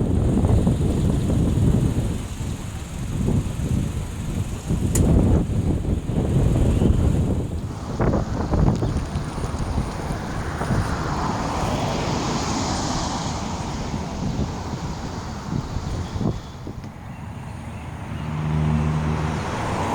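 Strong wind gusts across an open airfield beside a 1950s Vampire jet fighter, a continuous close rumbling roar that buffets the microphone, with no one speaking.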